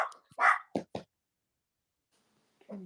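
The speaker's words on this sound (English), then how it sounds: "That dog is saying very inappropriate things" A dog barks a few times in quick sharp bursts, nearby and moderately loud, then pauses before another short bark-like yelp at the end, with no talk over it.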